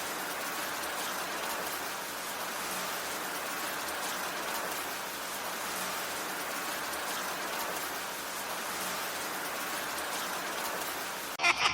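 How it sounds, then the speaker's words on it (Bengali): Steady heavy rain patters and hisses evenly throughout as a storm effect in a horror story, with no thunder or voices. "এরপর শুরু হয়ে গেল ঝড় বৃষ্টি, সঙ্গে আবার বজ্রপাত।"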